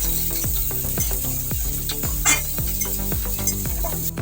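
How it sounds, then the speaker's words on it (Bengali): Radish and other vegetables sizzle steadily in a hot pan while a utensil stirs them in repeated scraping strokes, close and loud with no talking. "মূলোটা দিয়ে একটু নাড়াচাড়া করে নেব"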